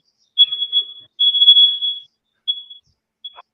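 Smoke alarm giving shrill, high-pitched electronic beeps, first a couple of longer tones and then two short chirps, loud and isolated against silence.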